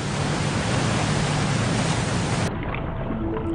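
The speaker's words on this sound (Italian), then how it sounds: "Fu la più grande cascata nella storia della Terra." An enormous waterfall pours through the Strait of Gibraltar to flood the Mediterranean, with a dense, steady roaring rush that drops abruptly to a quieter, lower rumble near the end.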